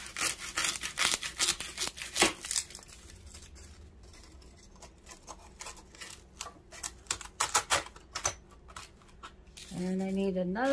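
Scissors or a blade cutting through crinkly wrapping material for a red-truck Valentine candy bouquet, producing a run of quick, close snips and rustles. A voice speaks near the end.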